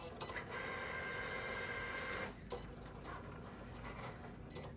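A cutting machine slices a design through layered material, its carriage whirring and ticking in quick repetitive passes, faint and steady, then breaking into sparse clicks as the head shifts.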